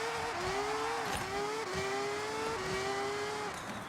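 A Mazda RX-7 screams through gear changes in a racing video game, its engine note climbing and dropping in four or five distinct upshifts, steady and loud with no talking.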